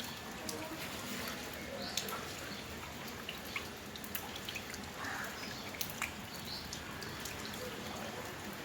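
Steady rain hisses throughout on a flooded street, with scattered sharp drips tapping irregularly close by.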